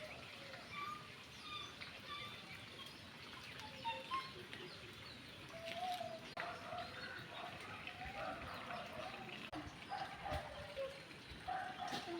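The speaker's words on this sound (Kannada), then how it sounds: "ಕೇಳಿಸ್ಕೊಳ್ಳಿ, ಪಕ್ಷಿಗಳ ಚಿಲಿಪಿಲಿ ಚಿಲಿಪಿಲಿ" Birds chirping behind a house after rain, scattered short calls and tweets repeating at a distance over a faint background hiss, quiet overall.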